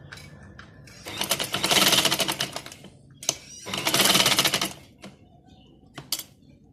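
A sewing machine stitches fabric strips for a poncho design in two loud sustained runs, with brief clicks and short starts between them.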